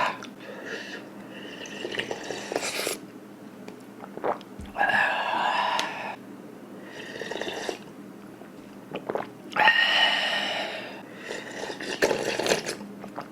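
Beef seaweed soup ramen being eaten up close: wet slurps and soft chewing come in several separate bursts with quiet pauses between them, and there is no talking.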